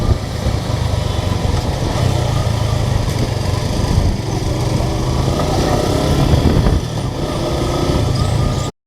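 Suzuki Gixxer SF motorcycle engine on a road test ride near Vasai, a loud continuous droning hum with wind rush, steady and close for most of the stretch, dipping briefly before cutting off at the end.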